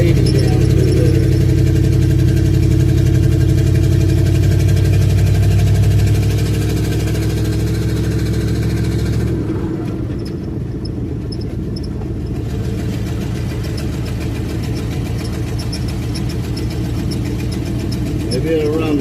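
A vehicle engine runs while warming up, first with a loud, deep rumble, then dropping to a quieter, steadier idle partway through, with a person talking over it.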